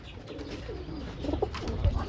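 Pigeons at a crowded fancy-pigeon market give soft, low cooing in short bursts against a busy background murmur.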